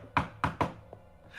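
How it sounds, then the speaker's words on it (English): A secret knock sounds on a door in a Ravenloft tabletop game session: three sharp raps, the last two close together, then a brief pause and a softer single tap. "The secret knock."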